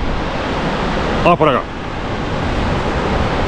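A powerful Viking-country waterfall in Vos municipality, Norway, roars as a steady, loud broadband rush throughout, with a brief spoken phrase cutting in partway through.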